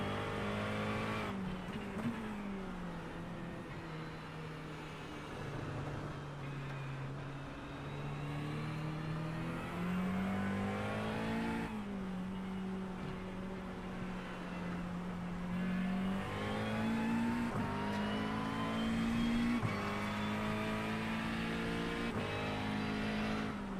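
A race car in a 24 Hours of Spa racing game howls through its gears, engine note dipping into corners and climbing as the throttle opens again, a steady loud drone with shifting pitch and faint tire noise, no talk.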